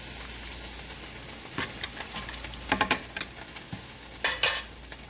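Pork chops and green beans sizzle in a pan as salt is stirred in, with a soft steady frying hiss under a few sharp scrapes and clinks of a utensil against the pan.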